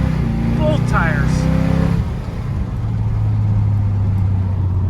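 A Chevrolet El Camino with 3.73 gears accelerates hard, its engine roaring loud and close for about two seconds before easing into a lower steady drone, with someone talking over it.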